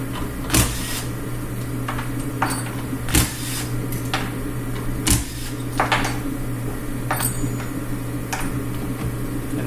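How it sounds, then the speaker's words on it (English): Bolts being pulled from a turbo compressor housing on a Honda Civic, heard as sharp intermittent clicks and ratchet-like snaps spaced a second or two apart over a steady mechanical hum. "So I'm just ripping the compressor housing bolts out real quick."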